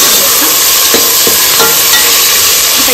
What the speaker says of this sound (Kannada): ಬಟಾಣಿ, ಆಲೂಗಡ್ಡೆ, onion, green chilli, ginger garlic paste ಹಾಕ್ಕೊಂಡು ಈ ಥರ ಫ್ರೈ ಮಾಡ್ಕೊಬೇಕು